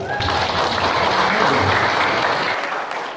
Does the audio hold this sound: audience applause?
yes